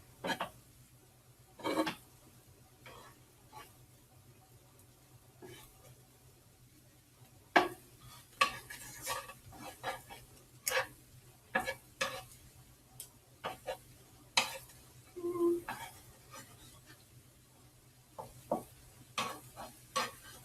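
Tiny pancakes frying in a pan, with a quiet sizzle under scattered clicks and scrapes as a spatula pushes them aside and flips them; there is no talk.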